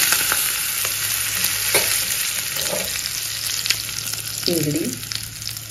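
Mustard seeds, sesame seeds and asafoetida tempering in hot oil for a spicy brinjal bharit with green chilli and spring onion, giving a steady close sizzle with occasional pops and crackles and a brief stirring clatter near the end.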